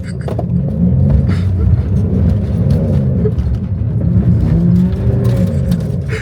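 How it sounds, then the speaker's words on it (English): A Ford Edge spins its wheels in a drift, with a steady loud engine rumble and tire roar running throughout, swelling and easing as it circles, while faint voices and cheers come in underneath. "Just spinning wheels for seconds."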